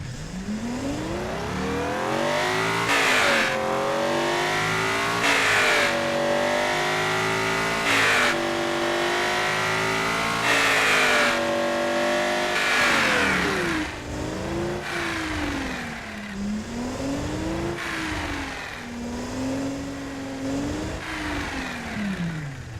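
A tuned car engine revs repeatedly, pitch climbing and dropping in surging waves, loud and close with a throaty, whirring induction note throughout.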